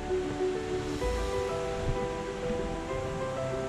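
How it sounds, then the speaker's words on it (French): Steady rushing water flows continuously, mountain streams tumbling over large rocks and small waterfalls, a constant broad wash of sound outdoors in Val-de-Travers, Switzerland, with no talking. "On entend les ruisseaux couler, les petites cascades"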